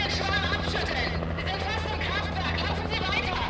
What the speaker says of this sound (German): Ein Heli.